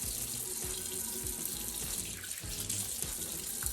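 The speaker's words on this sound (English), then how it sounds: "I just splash my face with some water" Tap water runs at a bathroom sink while someone splashes water on their face, a soft steady stream with intermittent splashes, fairly quiet and close.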